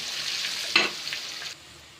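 Garlic frying in oil until it turns brown for a hog plum pickle, giving a soft, close sizzle with a brief scrape of stirring midway before the hiss drops lower, with no talking.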